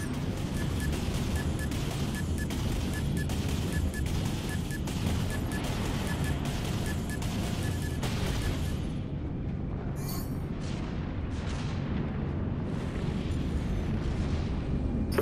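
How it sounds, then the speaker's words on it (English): Warship in the Dreadnought naval combat game firing torpedoes, followed by loud continuous rumbling explosions and heavy booms that thin out into scattered bursts near the end. "I launch torpedoes"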